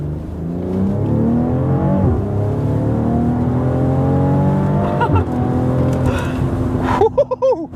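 A 2021 BMW X3 M40i engine drones steadily and builds as the SUV accelerates on dry pavement, with a brief rise in revs and a few clicks near the end.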